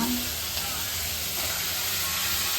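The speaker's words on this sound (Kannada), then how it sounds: "ಟೊಮೆಟೊ ಸೇರಿಸ್ಕೊಂಡು ನಾವು ನೀಟಾಗಿ ಫ್ರೈ ಮಾಡ್ಕೊಳ್ಬೇಕು." Tomato and cabbage frying in a pan for a home fried-rice dish, with a low continuous sizzle and soft hiss, fairly quiet and even.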